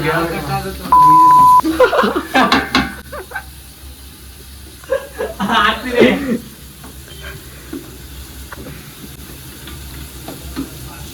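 Chopped onions sizzle and hiss in a frying pan as a biryani is prepared, a steady crackle running beneath someone speaking, with a short electronic beep near the start.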